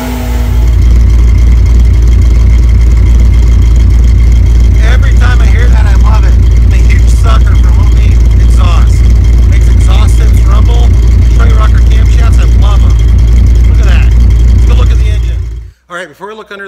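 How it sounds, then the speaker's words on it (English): A Roush 427R Mustang fitted with Detroit Rocker camshafts runs close and loud on a dyno, its V8 holding a deep, steady, lumpy idle with occasional revs, then cutting out abruptly near the end. "This car is also running a set of our Detroit Rocker camshafts."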